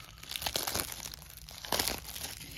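Board game packaging for a Zombicide upgrade kit is cut and opened with scissors, giving close crinkling and tearing plastic sounds in several bursts of rustling.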